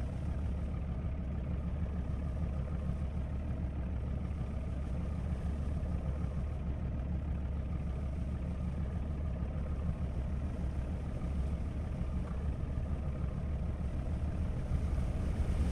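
A fishing boat engine in Fishing: North Atlantic runs at a steady low drone, with the throttle held slightly forward. The hum is continuous and unchanging, mixed with wind and water noise.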